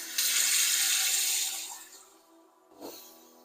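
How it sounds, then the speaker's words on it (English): Cold tap water gushes loudly into a sink to rinse chicken for a meal, a strong rush for about a second and a half that tapers off, then a brief splash. "And then run it up with some cold water."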